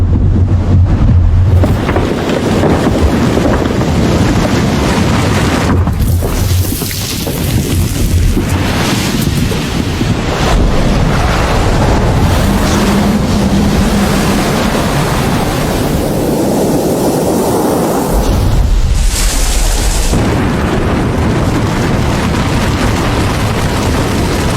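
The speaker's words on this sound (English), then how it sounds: "A colossal iceberg is born." A glacier ruptures and a colossal iceberg calves into the sea in a polar landscape, a loud deep rumbling roar with heavy crashing and surging water noise, sustained and swelling throughout without any voices.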